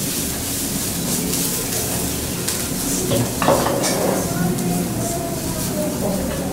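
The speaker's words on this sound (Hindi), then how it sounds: "लाल मिर्च हल्दी पाउडर सूखा धनिया आमचूर पाउडर डालकर अच्छी तरह से भून लेते हैं" Red chili, turmeric, dried coriander and amchur powder sizzle and are stirred while roasting in a pan for arbi sabzi. A steady close frying hiss runs throughout, with a scraping stir stroke in the middle.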